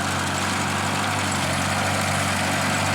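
A homestead mower engine runs steadily in tall grass, a loud, dense, unbroken drone heard close, with no voices over it.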